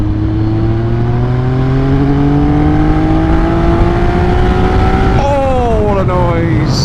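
A Triumph three-cylinder motorcycle engine revs up steadily in a rising, continuous drone, then shifts gear and climbs again, loud and close.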